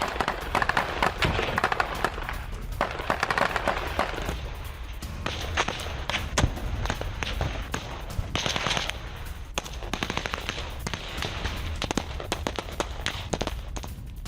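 Gunfire crackles near Aleppo during a Syrian rebel attack on an air force building, dense bursts of rapid shots and scattered cracks continuing over a noisy, rumbling background for the whole stretch.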